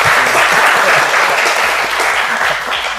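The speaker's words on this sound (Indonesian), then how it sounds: "Itu tepuk tangan dong buat Pak Dirnya" Loud, sustained applause from a crowd fills the whole stretch, steady and close.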